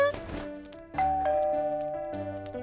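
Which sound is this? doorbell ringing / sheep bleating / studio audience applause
doorbell ringing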